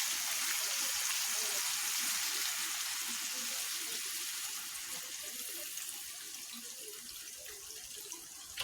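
Chicken curry broth is poured onto white pulao, making a steady, soft liquid splashing that fades slightly toward the end, with no talking.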